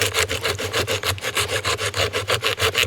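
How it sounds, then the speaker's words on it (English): A cheap survival knife saws through a wooden tree branch in quick, even back-and-forth strokes, each rasping pass close and clearly audible with no talking. "That actually saws fairly decent."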